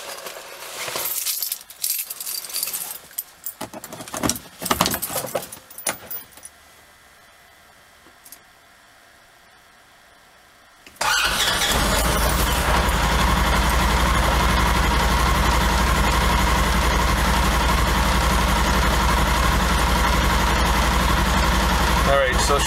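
A 2021 Polaris Ranger side-by-side, a little cold and with a clutch that makes it stall and sputter in reverse, cranks and catches, then settles into a loud, steady idle close by after some earlier handling noises and a quiet pause.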